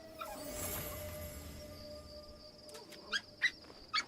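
Puppies in the game Assassin's Creed Shadows give a few short, faint whimpers and yips near the end, over a steady backdrop of ambient game sound.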